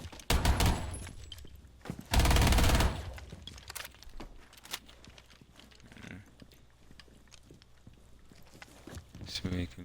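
Gunfire in the game Rainbow Six Siege, with loud bursts near the start and around two seconds followed by scattered sharp shots and clatter, mixed with game noise and some talk.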